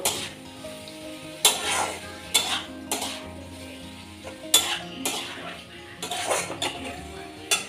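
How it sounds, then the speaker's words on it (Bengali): Curry being stirred in a metal pan over a low flame, spoon clanks and scrapes recurring every second or so over a soft sizzle, a voice faintly in the background. "ফ্লেমটা একদম লো করে দিলাম, ভালো করে একটু মিশিয়ে দিচ্ছি"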